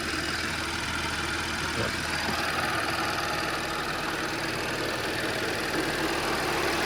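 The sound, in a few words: Audi A6 C6 3.0T supercharged engine idling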